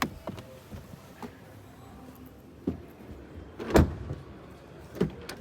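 A 2024 Škoda Kodiaq front door shuts with a solid thump, surrounded by a few lighter clicks and knocks from handling the door.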